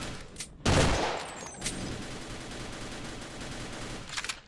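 Turret gunfire in a Half-Life co-op game, a loud close burst of rapid shots at the start followed by a sustained rumbling clatter and a few scattered later shots.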